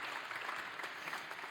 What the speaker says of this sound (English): A round of applause to our Denmark colleagues.